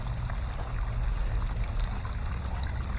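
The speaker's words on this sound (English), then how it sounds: "Just not enough volume of water here. Need probably 3 times that much going down it." Water runs down a sluice box outdoors in a low, even rushing flow, fairly quiet and continuous, with a soft trickling texture and no voices over it.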